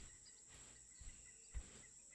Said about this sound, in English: I didn't think they had crickets on the Arid planet.